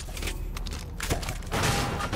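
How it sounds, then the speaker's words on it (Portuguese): Explosions in Fortnite hit close to the player, a dense run of bursts and booms rumbling with loud thuds, building to a heavier blast near the end. "O cara tá me explodindo aqui"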